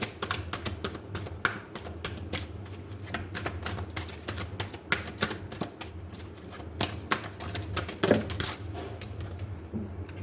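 Tarot cards are shuffled and drawn by hand, giving a steady run of quick, soft papery flicks and taps close by, with no talking.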